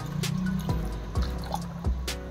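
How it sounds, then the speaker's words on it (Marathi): Water drips and splashes into a pan of cooking stuffed apple gourd (tinda) vegetables in a few scattered plops, with faint trickling between them, close by and fairly quiet. "आता या भाजीमध्ये पाणी टाकायचं आहे"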